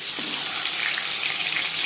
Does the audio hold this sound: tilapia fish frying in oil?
yes